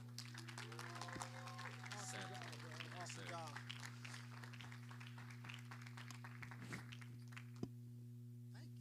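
A church congregation applauding together, scattered clapping that holds steady at a moderate distance, with voices murmuring and calling out underneath and a low constant hum in the room.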